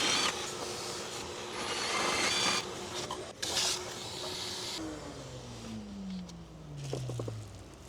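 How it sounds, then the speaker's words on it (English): A power drill runs in loud bursts, its motor whining and grinding as it drills through fiberglass on a DeLorean, then winds down with a falling pitch toward the end. "Now I'm just drilling the holes through the fiberglass"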